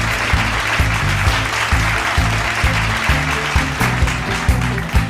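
A competition audience gives a loud, sustained round of applause for the Hyderabad team, the clapping riding over a steady rhythmic music beat throughout.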